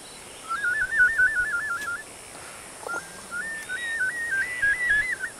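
A person whistles a wavering, trilling call imitating an animal, in repeated bursts with a short pause and a lower dip midway, over faint background hiss, in the Ecuadorian Amazon jungle.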